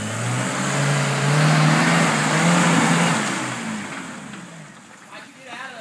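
A Suzuki Samurai engine revs and strains while driving off-road on a Harlan, Kentucky trail, loud and close, then easing off as voices talk over it.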